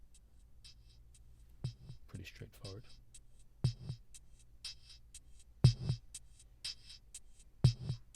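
Sparse Eurorack percussion patch of a bass drum, a high-pitched tambourine-like percussion voice and a hi-hat, firing at different intervals in a quiet, spacious groove, with someone talking briefly over it.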